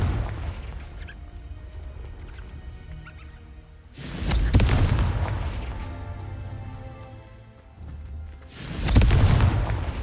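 Two heavy explosive blasts from a Confringo spell in a video game boom out several seconds apart, each with a rumbling tail that fades over quiet background ambience.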